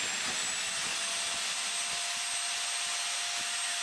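The trimmer on a manual butt fusion machine for 6-inch HDPE pipe faces the pipe ends with a loud, constant whirring drone. Rapid scraping and ticking from the blades runs under it throughout, with no talk.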